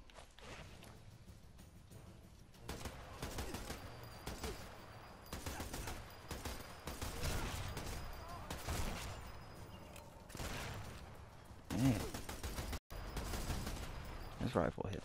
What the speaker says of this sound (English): This rifle hits hard.